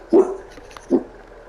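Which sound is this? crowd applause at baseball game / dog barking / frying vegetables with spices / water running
dog barking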